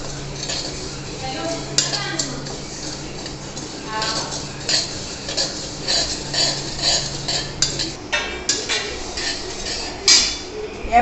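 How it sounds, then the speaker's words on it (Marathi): Tiny garden cress seeds dry-roasting in a pan for dry fruit laddoos, stirred with a metal spoon that scrapes and clinks in uneven bursts against a steady low hum. "हे आता आपण हळीव भाजून घेऊ."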